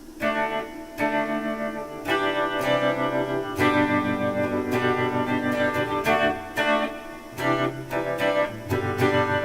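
An SG Pro 400 electric guitar plays through a Boss Katana 100 watt amp with a modulation effect, giving sustained chords and struck notes that ring loud and steady for the whole stretch, with no voice over them.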